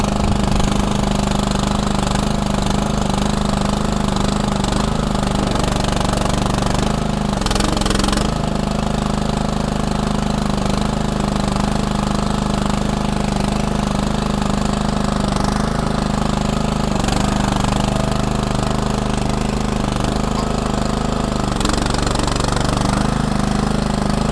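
Engine of a Landhero LDH-MCD500 mini loader dumper powered wheelbarrow running steadily, a loud, rough, chugging small-engine drone with brief rattles and surges, close and continuous.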